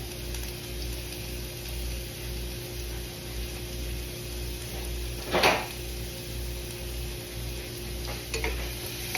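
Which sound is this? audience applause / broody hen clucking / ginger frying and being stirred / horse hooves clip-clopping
ginger frying and being stirred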